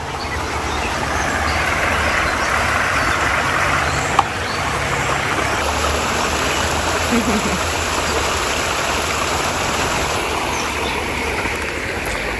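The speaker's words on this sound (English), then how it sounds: "This is the other side of the waterfall." Backyard pond waterfall giving a steady, even rush of falling water close by, constant throughout apart from one brief knock.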